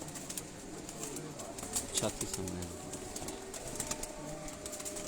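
Lakha pigeons coo softly at a rooftop loft in a pigeon-flying tournament, low murmuring calls repeating under steady background noise while someone talks.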